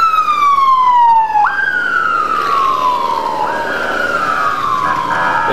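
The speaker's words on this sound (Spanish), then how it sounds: "se escuchan algunas sirenas, se escuchan muchas sirenas" Loud, close emergency sirens near Upala airport sweep down in long falling wails, one overlapping the next, with no voices.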